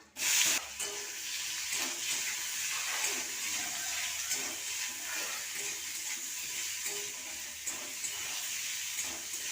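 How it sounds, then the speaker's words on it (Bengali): Papaya pieces frying in hot oil in a pan with dried red chilli and black cumin seeds, giving a steady, loud broadband hiss and crackle that persists throughout. "পেঁপেটাকে এইভাবে ভেজে নেব"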